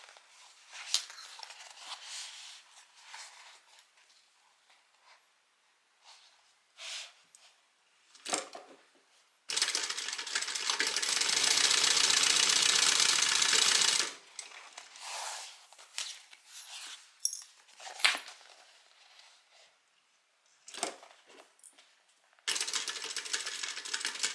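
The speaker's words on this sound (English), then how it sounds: "I'm going to go ahead and stitch" A sewing machine stitching the lining of a sewing project, with a sustained loud whirring run of stitches in the middle and another near the end, separated by quieter clicks and handling taps.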